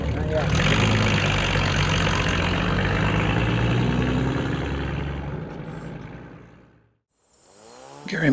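A loud, rumbling straight-piped car engine with no catalytic converter roars steadily up close with a raspy exhaust, then fades away into near silence before picking up again.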